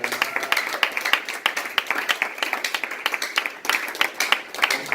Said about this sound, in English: Can we clap her hands?